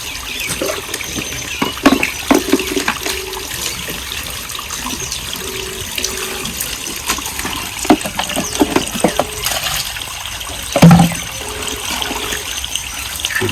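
Water runs and drains steadily indoors, a continuous close trickling flow with occasional small knocks and splashes and no talking.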